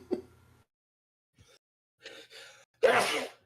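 A single short sneeze bursts out loudly near the end, after a few faint breaths and shuffles, during a tabletop role-playing game session.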